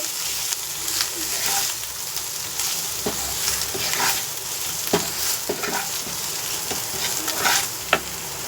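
Chicken being stirred in a hot pan with salt, turmeric and Kashmiri chili powder, a steady sizzle and frying crackle under repeated scraping strokes of the spoon, close and fairly loud with no talk.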